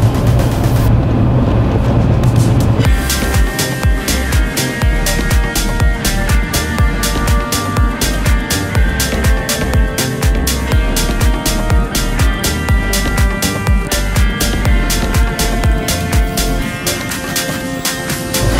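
An Alfa Romeo car drives and accelerates, its engine droning loud and steady from inside the cabin with a rhythmic thrumming throughout after a brief quieter start.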